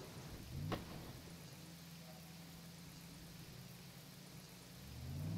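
Steady rain hisses evenly throughout over a low engine drone in the racing game rFactor 2, with one brief sharp whistle early on.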